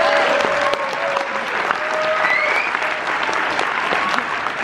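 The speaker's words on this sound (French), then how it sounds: "un applaudissement pour Simon Abkarian." An audience at a film festival applauds loudly and steadily, the dense clapping of a large crowd continuing throughout with a few faint whistles.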